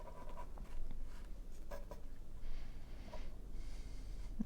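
A mechanical pencil scratches across paper in short, uneven strokes, drawing and darkening lines for a landscape sketch; the scraping is faint and close with no voices.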